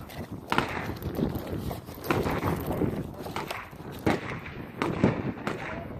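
Several sharp reports from a .357 Magnum revolver fired at a cold outdoor shooting range, spaced a second or two apart. They ring out loudly against a noisy background.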